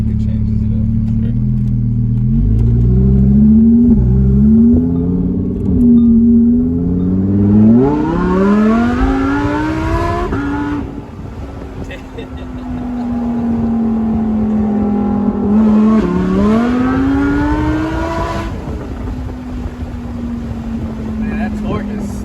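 A supercharged Lamborghini Huracan Evo with a VF Engineering kit revs and accelerates hard with the top off, its engine note climbing in pitch through several gear pulls, loud and close, with people talking over it.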